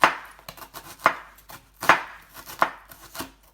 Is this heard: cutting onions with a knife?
yes